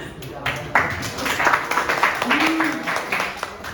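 Students clapping in an Indonesian classroom, a short burst of scattered, uneven hand claps close by, mixed with a teacher's voice and background chatter.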